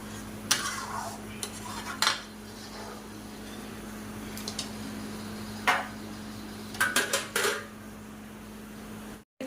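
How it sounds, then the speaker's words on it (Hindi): Pakoras being dropped into a pot of simmering kadhi on a home kitchen gas stove, with scattered metallic clinks of a spoon against the pot over a steady low hum, several sharp taps spaced irregularly. "अब मैं इसमें जो है पकोड़े डाल देती हूँ जो बना रखे हैं मैंने।"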